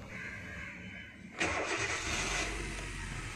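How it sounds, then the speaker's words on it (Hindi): A Hyundai car with an ECM fault fires up after a short cranking whir, then the engine catches and settles into a steady idle, close and fairly loud, with no one talking. "अभी गाड़ी स्टार्ट होनी ही चाहिए"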